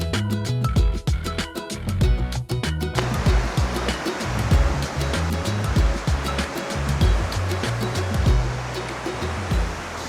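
Continuous loud rushing water fills the scene, a steady broadband roar like a nearby waterfall, with no voices.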